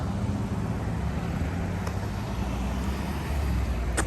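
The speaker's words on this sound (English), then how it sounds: "As soon as this truck gets out of the way." A truck and other street traffic pass by on an urban road, a steady low rumble of engines and tyres that stays loud and close the whole time, with no voices over it.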